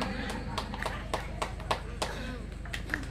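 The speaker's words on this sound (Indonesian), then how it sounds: "Beri tepuk tangan." At a prize-giving for Indonesian Independence Day contests, a small group claps in about a dozen sharp, uneven hand claps over a low background hum and quiet voices.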